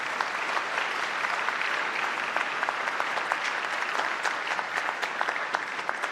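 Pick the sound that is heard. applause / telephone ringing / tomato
applause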